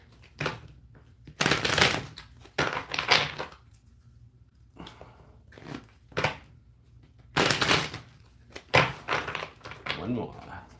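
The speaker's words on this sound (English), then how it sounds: "Shuffle them 3 times here." Oracle cards are shuffled by hand in a series of crisp riffling bursts, roughly five or six separated by short pauses, close and fairly quiet.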